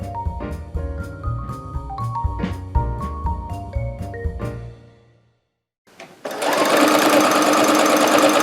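A sewing machine stitches the rows of a nine-patch basic star quilt block, running in loud, close, rhythmic bursts with a short pause before it starts a steadier run.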